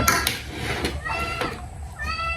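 A cat meows a few times in a kitchen during a home breakfast of beef pinapaitan, its short calls rising out of the background while people talk nearby and dishes clatter faintly.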